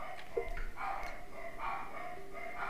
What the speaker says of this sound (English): Stupid dogs are barking again.